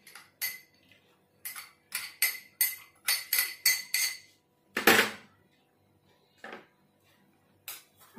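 A spoon mixes grated coconut and jaggery filling in a bowl, giving a string of close, sharp clinks and scrapes against the vessel in irregular bursts, with short pauses between them and no talk.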